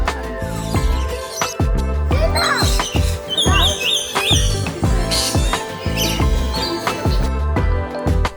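A parrot at a Kuala Lumpur bird park gives repeated harsh, sharp calls and chirps in an irregular rhythm, close and fairly loud over a busy background.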